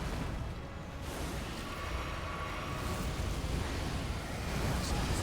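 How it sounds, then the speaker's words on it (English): Video game explosion in Elden Ring, a sustained loud rumbling roar of blast noise filling several seconds, dense and broadband without clear separate bangs, and no voices over it. "Explosion."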